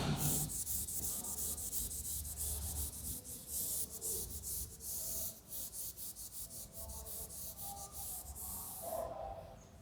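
Board eraser rubbing chalk or marker writing off a classroom board, a steady scratchy scrubbing in rapid back-and-forth strokes, close and continuous with no talk.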